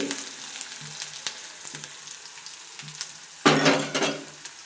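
Egg curry masala with tomato sizzles and fries in a pan, with a steady close crackle, occasional soft spoon scrapes while it is stirred, and a louder burst of sizzling near the end.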